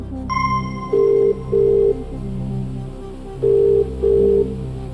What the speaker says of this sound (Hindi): भाई सुमित जी को फोन लगाया जाए।